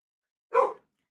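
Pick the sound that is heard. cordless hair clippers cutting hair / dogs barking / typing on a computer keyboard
dogs barking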